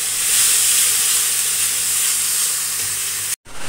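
Tomato and onion paste for a katla fish kalia sizzles loudly and steadily in a hot frying pan, a dense bright hiss with no talk, cutting out abruptly near the end.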